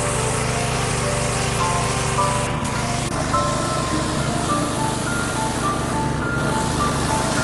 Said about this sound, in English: Pressure washing can be very therapeutic.